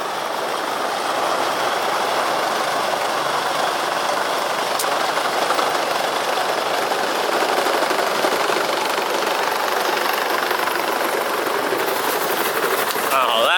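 A sled on the Camp Fortune mountain pipe coaster in Gatineau rolls steadily down its track, a continuous close rumbling rush with rail-like clatter holding level throughout the ride.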